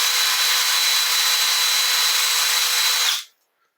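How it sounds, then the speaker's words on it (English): A wire brush scrubs rust off a Channellock tool in one continuous, loud, harsh scraping hiss that holds steady for about three seconds, then stops suddenly, leaving silence. "Let's just quickly hit it with the wire brush here."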